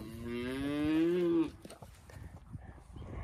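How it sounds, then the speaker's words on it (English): A cow in a pasture lets out one long, loud, rising moo lasting about a second and a half, followed by quieter rustling and ambient farm noise. "you see them cows over in another pasture?"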